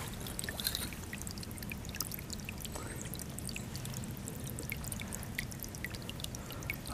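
Water trickles and pours continuously through a small creek, a steady close babbling flow with faint splashes and no talking.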